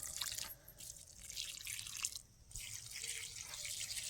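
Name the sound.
pouring water onto plants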